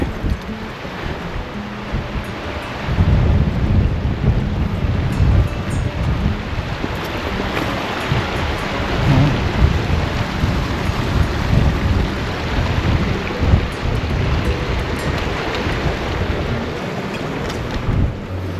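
Rushing water of the Cascade d'Ars waterfall in the Ariège mountains, a loud, steady roar heard from above the falls, broadband and unbroken with some wind buffeting and no talk.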